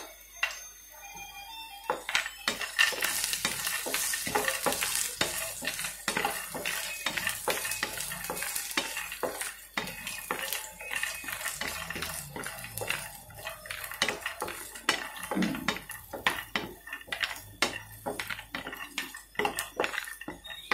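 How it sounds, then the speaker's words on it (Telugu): Peanuts frying in a pan for a chili powder are stirred steadily for a long stretch, with repeated scraping and clinking of a spatula against the metal over a faint sizzle, close by and with no talking. "ఇప్పుడు నేను మళ్ళీ కొద్దిగా పల్లీలు యాడ్ చేస్తున్నానండి. పలేన్ మనకి వేగడానికి కొంచెం లైట్గా టైం పట్టుతుంది కదా"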